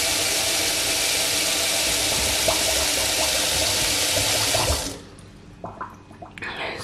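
Water is flushed into a clogged drain while cleaning an apartment, a loud continuous rushing gush that stops abruptly after a few seconds, followed by quieter gurgling and trickling as the blocked drain backs up.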